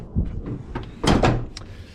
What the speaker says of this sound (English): pop the hood up